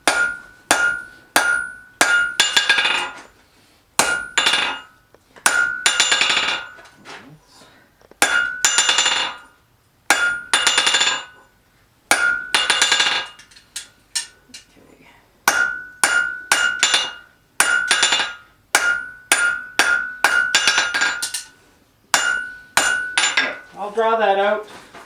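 Repeated ringing hammer blows on hot metal at a blacksmith's forge, struck in quick bursts of several strikes separated by short pauses, bright and close, with no talking.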